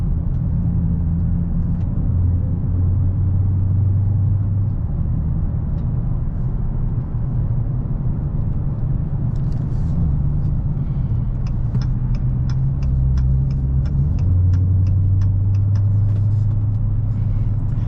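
A 2022 Dodge Challenger Hellcat cruises steadily on a highway, its low engine drone and road rumble continuous and close, with a few faint high clicks partway through.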